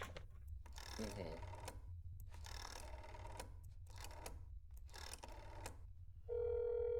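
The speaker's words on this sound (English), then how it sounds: "I've never actually used a rotary phone like this." Rotary phone dial in a video game, three bursts of whirring, clicking dial returns in steady succession, then a steady electronic tone at the end; background hum underneath.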